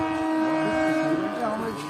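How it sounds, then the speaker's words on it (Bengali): A train pulls into a station with a sustained tonal horn or whistle over a low rumble. It is fairly loud and close, with some voices in the background. "ট্রেন ঢুকে গেছে, আমরা ট্রেনে উঠছি, ট্রেন আসছে।"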